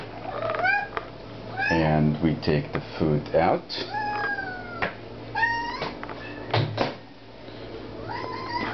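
A pet cat meows again and again close to the microphone at feeding time, with a parakeet nearby, while a person talks over the cries.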